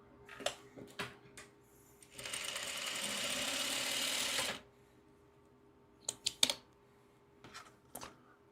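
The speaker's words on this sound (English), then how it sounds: "let's get to the sewing." A sewing machine stitching fabric in one steady run of about two seconds, close and fairly loud, framed by scattered clicks and handling knocks before and after.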